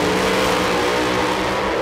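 A Top Alcohol Funny Car thunders down the drag strip at a race eliminations event, a loud, dense, continuous roar filling the short moment with no voices.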